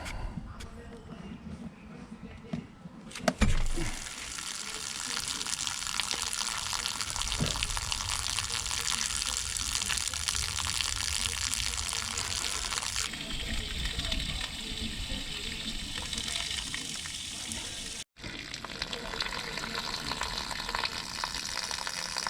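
Water drains steadily out of an aluminum boat, a continuous broadband gush and splash that runs for most of the stretch, close by, with a brief dropout near the end.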